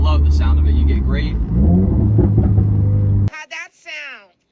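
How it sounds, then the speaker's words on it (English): A 2018 Subaru WRX with a quad-tip, muffler-delete aftermarket exhaust revs loudly and deeply for about three seconds, then cuts off abruptly as a voice follows. "it's a quad tipped nameless brand exhaust, and I personally love the sound of it."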